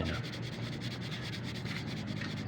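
A Toyota Lite Ace headlight lens being sanded by hand with 1000-grit sandpaper, a close, steady rasping made of quick repeated back-and-forth strokes with no talking.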